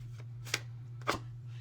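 Tarot cards being handled during a reading, two brief papery swishes as cards are shuffled and drawn, close and soft over a steady low hum, with no talking.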